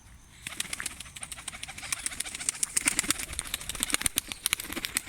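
Pigeons in a loft give soft, repeated cooing and fluttering calls, faint and fairly close, building in density over a few seconds with no talk.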